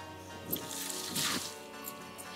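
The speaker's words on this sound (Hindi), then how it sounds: "घेर इसके सिर पर को पानी।" Water poured over a person's head, heard as two soft, close splashing gushes amid faint trickling, fairly quiet overall.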